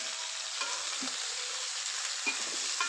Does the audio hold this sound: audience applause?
no